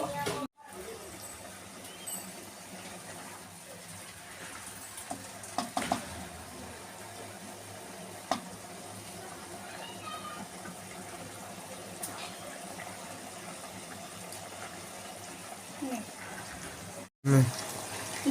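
Water goes into a pan of pomfret masala curry, a soft continuous pour and bubbling simmer heard up close and fairly quiet, with a few small clinks along the way.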